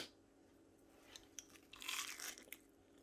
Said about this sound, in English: Titikman natin kung malutong ba siya o may crunchy siya